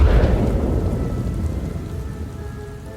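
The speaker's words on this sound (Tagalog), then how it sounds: "sa gitna ng napakalakas na ulan" Heavy rain pours down with a deep rumble of thunder rolling at the start and fading away, the downpour a dense, loud hiss throughout.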